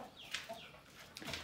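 Soft, drawn-out clucks from two broody hens indoors, a few low grumbling calls spread over a brief moment, fairly close and quiet.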